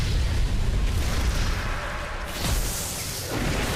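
The Supreme Cannon attack from Digimon Story Time Stranger detonates as a sustained, booming explosion, with a thick low rumble and crackling blast noise filling the whole stretch and a brief swell partway through.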